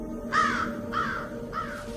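A crow caws three times in a steady, evenly spaced rhythm, each call harsh and moderately near, over a low continuous background hum.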